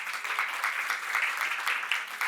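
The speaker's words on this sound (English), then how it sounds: "I'm glad you clapped, actually" An audience at an entrepreneurs' event applauds, a steady soft wash of clapping hands, fairly distant and even throughout.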